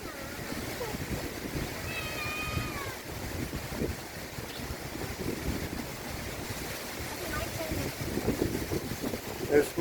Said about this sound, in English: They love the kitties.